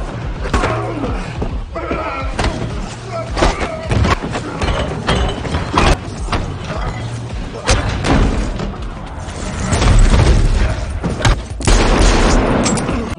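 Gunfire and heavy impacts from an action film fight scene, with dense, continuous bangs, thuds and booms under a music score, growing louder toward the end.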